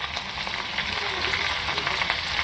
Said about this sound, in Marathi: हे बघा, आता चांगलं तडतडलं आहे